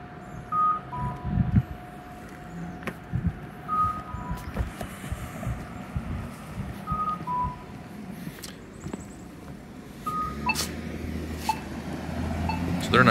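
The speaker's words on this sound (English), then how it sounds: "I would have had the cuckoo sound go a little faster" A bicycle-activated signalized crossing plays repeated two-note cuckoo chirps at a steady, unhurried pace alongside street traffic, including passing trucks and cars. Someone talks over it.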